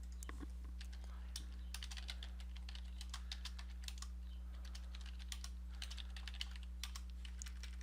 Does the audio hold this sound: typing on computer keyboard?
yes